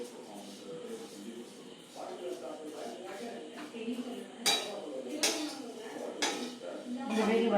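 Semiya vermicelli roasts in a pan as a spoon scrapes and clinks against the metal in irregular knocks, with several sharper taps, under a voice talking.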